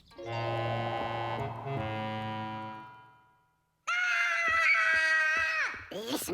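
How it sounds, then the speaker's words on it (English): A young child screams and wails in long, strained cries, breaking off briefly for breath before a louder, higher shriek. The sound is close and harsh, with no other voices over it. "He won't stop screaming."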